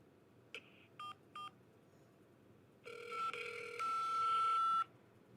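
A telephone call to a Wendy's restaurant: three short keypad dial tones, then the line ringing with a steady electronic ring tone for about two seconds, fairly faint and without talk.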